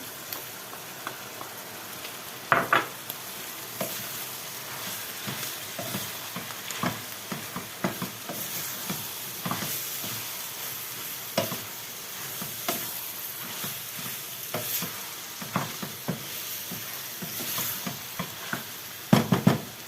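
Tomatoes fry in a pan with a steady low sizzle, broken by irregular scrapes and knocks of stirring, close and moderately loud.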